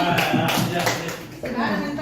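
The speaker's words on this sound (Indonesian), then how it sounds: "Tepuk tangan kepada Amin." A classroom group clapping for Amin during a positive-culture module session, a short burst of close, dense hand claps mixed with chatter and light laughter.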